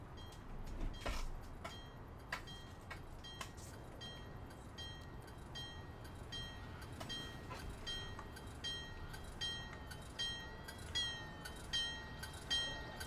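A train in Train Sim World 2 brakes with a steady, faint rumbling roar and scattered clicks and squeals running through it, with no voices.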